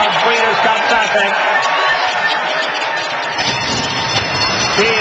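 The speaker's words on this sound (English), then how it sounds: "Steals Saint on their way in the Breeders' Cup Classic to the roar of the Santa Anita crowd" The crowd at the Santa Anita racetrack roars in a sustained, broad wash of noise before the Breeders' Cup Classic, with an announcer talking over it throughout.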